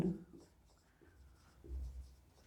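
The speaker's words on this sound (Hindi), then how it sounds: "तो हम यहां लिखेंगे" Chalk or marker scratches across a board during a physics lecture on semiconductor amplifiers, a few soft, close strokes in a quiet room with no talking.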